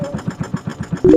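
Motor of a zipper boat, a small Filipino outrigger fishing banca, running on the water with a steady rhythmic chugging throb close by, rising to a louder roar at the very end.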